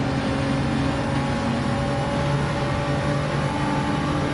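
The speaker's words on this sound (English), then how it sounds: "All right, can you hear the car?" A race car engine in Gran Turismo 7 drones at high, steady revs through a race, loud and continuous with tonal whine and no talking over it.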